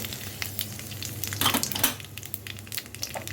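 Nigella seeds sizzle in hot oil in a kadai for a hilsa fish curry, a soft crackling fry with a few scraping stirs and light metallic clinks, fairly quiet and alone.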